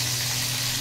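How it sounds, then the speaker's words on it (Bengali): Pomfret fish frying in hot oil, a steady, close, even sizzle, short and without voices. "ভাজা চলছে, পমফ্রেট মাছ ভাজা"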